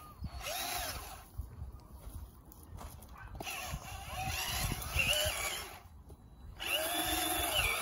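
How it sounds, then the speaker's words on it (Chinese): An electric drill fitted with a cement mixing paddle churns and loosens garden soil in a flower bed, whirring in uneven bursts that rise and drop, close and fairly loud, with short pauses between runs. "我发现你这电钻没劲儿了"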